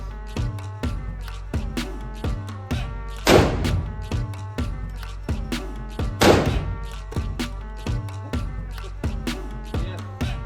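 Two loud, sharp gunshots from a gold-plated .50 caliber Desert Eagle pistol at a shooting range, spaced about three seconds apart, heard close over steady rhythmic background thumps.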